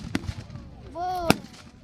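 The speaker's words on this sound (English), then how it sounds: "Tank? Yeah, that was a tank. Oh, the machine gun on the tank." A tank fires a single sharp blast at a tank reenactment weekend, followed by a brief rising whine and a second loud crack, with a voice briefly audible in the background.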